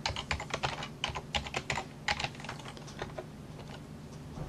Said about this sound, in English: and type password.